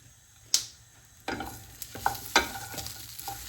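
Tomatoes hit hot olive oil with dried basil, giving a few sharp spits and clatters as they drop in, then a soft sizzle with stirring clicks over a quiet background.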